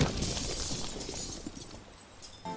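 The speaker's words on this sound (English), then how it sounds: "We've broke the glass." Glass shatters in a ragdoll video game, a brief bright crash that breaks into scattered tinkling debris and then fades quickly.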